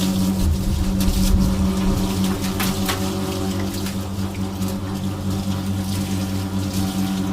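Running water rinsing a dog during grooming, a continuous steady rush and splatter close by with a low pump-like hum underneath, no talking.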